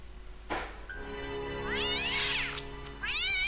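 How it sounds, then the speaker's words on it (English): A cat in the Broken Sword adventure game gives two drawn-out, rising-and-falling meows from a rubbish bin, one after a sharp clunk and a second shorter one after it. They sound close and clear, with no speech. "The same cat got stuck back in the same rubbish bin."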